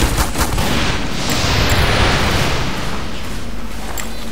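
Dense, loud gunfire and explosions rattle continuously in a Team Fortress 2 match, a close chaotic barrage of overlapping shots and blasts with no talk.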